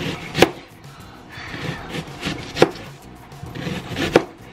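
A dull knife slices food thinly, giving three distinct sharp cutting thunks spaced about two seconds apart, close and fairly quiet with faint rubbing between them.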